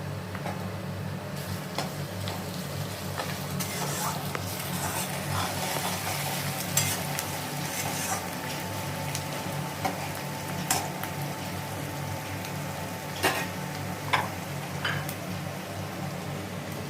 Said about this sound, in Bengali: পেঁয়াজটা ভালো করে ডিপ ফ্রাই হচ্ছে না